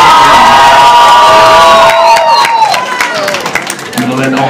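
An audience at a KuroNekoCon cosplay fashion show screams and cheers loudly, a bright crowd roar with high whoops that fades toward the end as a voice starts to speak.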